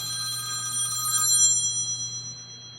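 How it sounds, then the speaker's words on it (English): Telephone ringing in a workshop, a bright electronic trill with several high tones, fairly close and swelling briefly before fading, with no talk over it. "And I've got a phone call."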